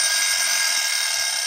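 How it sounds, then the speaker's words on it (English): A kitchen timer alarm goes off during home canning of white bean and ham soup, a steady, loud electronic beeping tone that holds unbroken throughout, alone without talk. "Ignore the timer."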